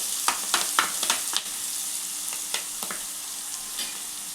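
Chopped onions fry in hot oil until golden, a soft continuous sizzle broken by sharp clinks and scrapes of a spoon stirring the pan, busier at first and then sparser.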